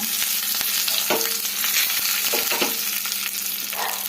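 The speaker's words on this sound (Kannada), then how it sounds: "ಒಂದು ಸ್ವಲ್ಪ ಉದ್ದಿನಬೇಳೆ ಸೇರಿಸ್ಕೊಳ್ಳೋಣ. ಎಲ್ಲ ಚೆನ್ನಾಗಿ ಫ್ರೈ ಆಗಲಿ. ಇವಾಗ ಕರಿಬೇವು, ಒಣಮೆಣಸಿನ್ಕಾಯಿ ಸೇರಿಸ್ಕೊಳ್ಳೋಣ" Urad dal, curry leaves and dry red chillies fry in hot oil, a steady close crackle and sizzle with stirring scrapes throughout, no voices.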